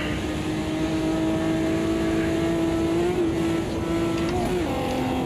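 A race car engine in Automobilista 2 holds a loud, steady high-revving drone that climbs and wavers as it over-revs, close and continuous with no talk.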